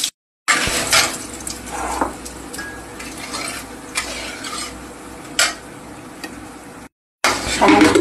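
Chopped onions and bay leaves sizzle in hot oil as a tempering, with a steady hiss broken by utensil scrapes and clinks against the pan. A brief silent gap comes near the end.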